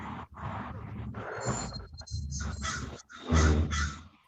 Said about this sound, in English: I hear crows.